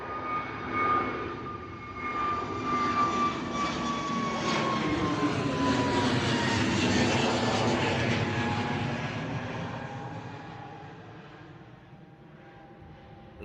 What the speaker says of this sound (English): Rotated already, here we go, EasyJet coming at us. A 320.